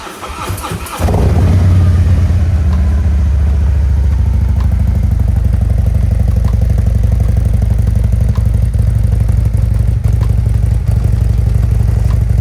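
Harley-Davidson motorcycle firing up from cold with the exhaust pointed outside: a brief cranking burst, then a loud, steady, rumbling idle that stays close and continuous with no talk over it.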